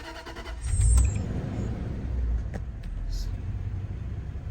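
A Range Rover Sport engine turns over and settles into a low, steady rumbling idle, close by, with a bit of faint background noise.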